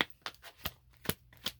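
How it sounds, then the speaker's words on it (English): A deck of tarot cards is shuffled close up in quick, soft riffling bursts, about five short crisp flutters in rapid succession. "Just by the way the deck was shuffling."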